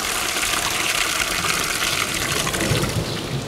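Water gushes steadily while a keeper cleans a giraffe's drinking trough at Berlin Zoo, a loud continuous broadband rush with no pauses throughout.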